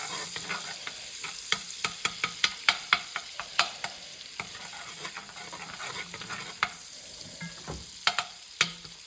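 Garlic frying in butter in a pan, a soft continuous sizzle broken by a quick run of sharp spatula taps and scrapes against the pan, close and fairly quiet, with no speech.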